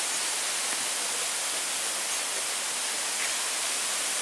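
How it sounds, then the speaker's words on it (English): Small waterfall beside a backpacking trail at Pictured Rocks, Michigan, a steady, dense hiss of falling water heard up close with no breaks or other sounds. "this is my favorite little waterfall on this section of the trail"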